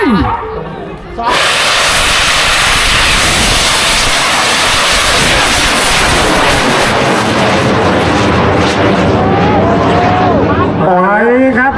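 A loud roaring whoosh erupts and holds as a homemade bamboo rocket blasts off at a Thai Bun Bang Fai rocket festival, with a crowd cheering and shouting underneath and whistles at the end.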